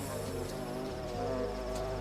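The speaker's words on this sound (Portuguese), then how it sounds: "Quando o abelhão se adianta em direção à lobelia azul em busca de néctar" Bumblebee buzzing around blue lobelia flowers in a garden, a steady low droning hum with faint tonal wing-beat layers, close and continuous.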